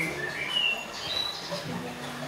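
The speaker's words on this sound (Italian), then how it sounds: "Sentirete la voce di tanti uccelli e uccellini che accompagnano questa nostra passeggiata" Many birds chirping and tweeting together outdoors along a walking path, a steady bright chorus of overlapping calls with no voices.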